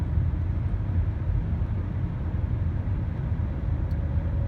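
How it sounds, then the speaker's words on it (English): Interior sound of a car being driven, a steady low rumble of road and engine noise that holds evenly with no talking. "I'm driving"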